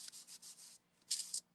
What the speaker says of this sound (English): I have my mini sander, and I have a really fine sandpaper on that.